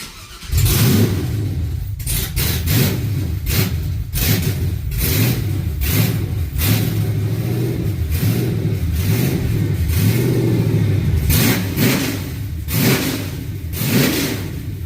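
An LS-swapped wagon engine running with open headers and no exhaust pipes revs hard and loud up close, with rough, uneven throttle blips and an unsteady idle between them.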